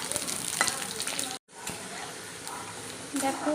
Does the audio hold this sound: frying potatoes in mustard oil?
yes